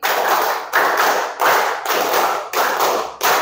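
A class claps out a rhythm of five quick claps, repeated in tight groups with short pauses between, crisp and close with no talking.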